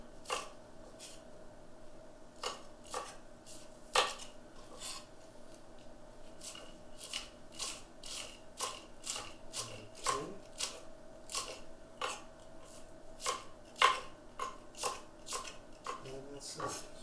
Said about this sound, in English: I think I will matchstick the scallion